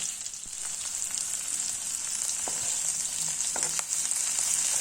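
Soaked, peeled jackfruit seeds frying in hot oil for an Assamese dish, giving a steady close hiss with scattered pops and light stirring clicks, no voices.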